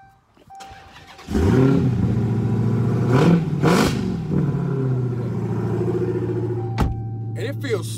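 A Dodge Charger Hellcat's engine cranks and fires with a loud bark, then settles into a deep, rumbling idle with a few blips of revving, heard up close.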